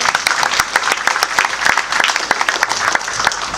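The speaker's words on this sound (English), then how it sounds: "Please give me a big round of applause." A lively round of applause from the crowd at a birthday lecture, with many distinct, sharp claps in a dense, uneven patter that holds steady and loud throughout.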